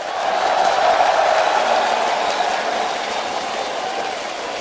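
A stadium crowd at a League of Legends Season 2 final roars in a steady, broad wash of cheering that swells early and then holds at a slightly lower level.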